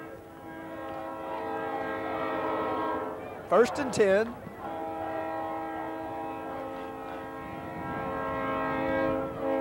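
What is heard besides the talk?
train passing by Bobcat Stadium, horn sounding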